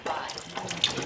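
Water runs from the tap of a Kangen water machine dispensing 9.5 alkaline water, a steady close hiss and splash filling a container for about a second.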